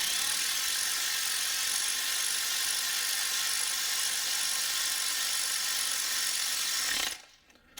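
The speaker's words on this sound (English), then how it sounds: "Now this is a non-impacting ratchet, and I can control it. So I'm going to go ahead and drive them down using this." A non-impacting ratchet whirs in a continuous buzzing run as it drives spark plugs down into a car engine, then cuts off abruptly near the end and leaves near silence.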